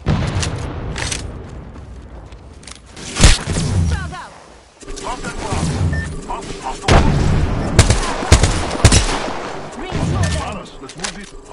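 Gunfire in the Apex Legends battle royale: repeated loud shots and bursts, some close and sharp, others more distant, spread through a busy firefight with game voice lines running alongside.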